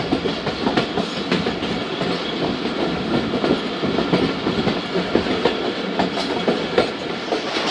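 Jaffar Express passenger train passing Sanjani railway station on a single line, heard from aboard as a loud continuous rumble with rhythmic clickety-clack of wheels over rail joints.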